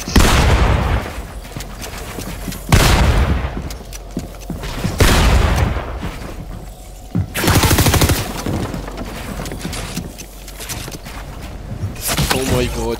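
Bursts of gunfire from the Fortnite video game during a 32-player Zone Wars tournament, several loud broadband volleys with quieter stretches between, layered over game ambience.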